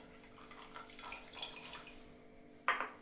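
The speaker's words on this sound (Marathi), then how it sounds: "जे आपण केशर भिजवलं होतं त्याचं पण पाणी टाकून घेऊया।" Saffron soaking water poured into a pot of sweet coconut rice, a soft trickling splash under faint kitchen noise, ending in a brief brighter splash near the end.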